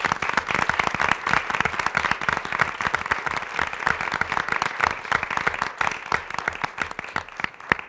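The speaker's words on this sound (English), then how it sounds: "So I thought we could give them a round of applause before we introduce them." A school board meeting audience gives a sustained round of applause for a school team, dense steady clapping from many hands lasting several seconds with little talk.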